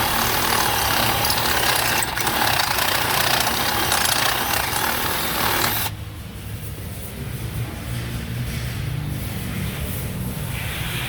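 A power drill spins a cobalt step drill bit to enlarge holes during Ford Explorer wheel bearing work, a loud continuous grinding whir that drops off sharply midway, leaving a quieter steady run.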